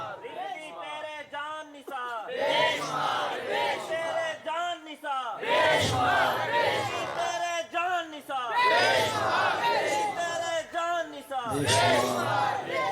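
A large crowd at an Islamic religious gathering chants slogans in loud unison call-and-response bursts, rising and falling in rhythmic waves, with a leader's voice between the chants.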